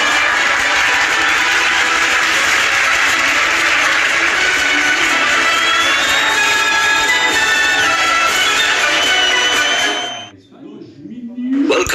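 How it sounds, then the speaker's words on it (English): A studio audience gives loud, sustained applause and cheering with whistles for Edward the Blue Engine, a steady roar that cuts off abruptly near the end. "give a warm round of applause to Edward the Blue Engine"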